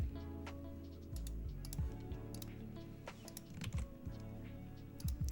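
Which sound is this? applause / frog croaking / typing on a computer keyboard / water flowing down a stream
typing on a computer keyboard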